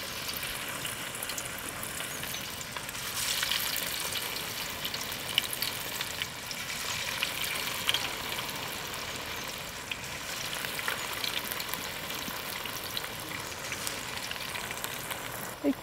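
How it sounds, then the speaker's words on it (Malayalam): Kerala-style onion vadas fry in hot coconut oil, a dense continuous sizzle and crackle that holds steady and close throughout, with faint pops rising above the hiss. "നമുക്ക് ഇനി ഉള്ളിവടകൾ ഓരോന്നോരോന്നായിട്ട് ഇതിക്ക് പെറുക്കി കൊടുക്കും."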